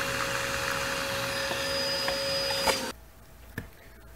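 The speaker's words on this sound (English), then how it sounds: "we got a vacuum cleaner, and we use the hose, the vacuum cleaner, sucking from the bottom." A vacuum cleaner hose sucks ink through the bottom of an HP printer cartridge with a loud, steady roar, then cuts off at about three seconds, followed by a couple of clicks.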